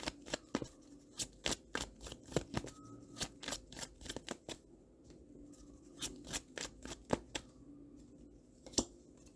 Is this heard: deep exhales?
no